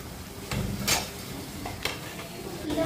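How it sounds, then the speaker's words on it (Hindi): Potato pakoras fry in hot oil with a continuous sizzle, while a spoon clinks and scrapes against the pan as they are turned, close by. "दोनों साइड उलट पलट करके हम आलू पकौड़ी के हल्का लाल होने तक अच्छे से तेल में पका लेंगे।"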